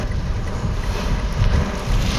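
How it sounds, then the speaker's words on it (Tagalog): Heavy rain pouring down during a storm on a road, a dense, loud, continuous hiss and wash with low rumble, steady across the whole stretch with no talking. "napakalakas po ng ulan."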